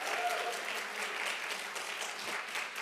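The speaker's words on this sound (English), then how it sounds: "I'd like to give a special round of applause to Sammy and Malika for bringing us this fun idea" Steady applause from a theater audience at a film screening and discussion, with dense, even clapping that fills the whole stretch at a moderate level, and no talk over it.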